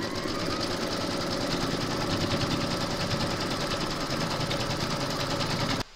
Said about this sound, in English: load your neutral matching bobbin and thread into your machine, and then you're going to stitch round number 1